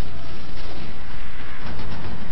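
Dense, continuous gunfire and explosions from the video game Resistance 2 form a loud, unbroken wall of blasts and crackle with no pauses.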